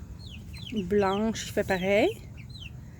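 Backyard city hens give two drawn-out, rising clucking calls close by, with a person talking softly around them.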